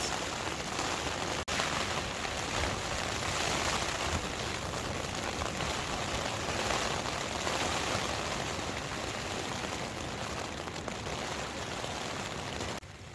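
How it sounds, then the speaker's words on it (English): Steady rain and gusting wind batter a tent through a stormy winter night in the Lost Valley, Glencoe, Scotland; a dense, continuous hiss with no voices. "So hopefully I'll get some sleep with the rain and the wind, but who knows."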